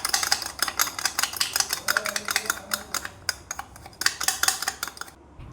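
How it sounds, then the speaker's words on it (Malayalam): A spoon rapidly clinks against a glass, stirring sugar into juice in a steady, fast rhythm, close and bright, stopping abruptly at the end. "നന്നായിട്ടൊരു സ്പൂൺ വെച്ച് മിക്സ് ചെയ്ത് കൊടുക്കാം"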